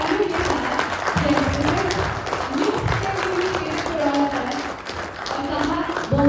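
Audience applause at a press conference for the Bhojpuri Dabanggs team jersey launch, steady clapping throughout with a voice talking over it.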